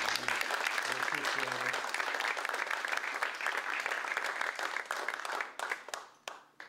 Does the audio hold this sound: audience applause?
yes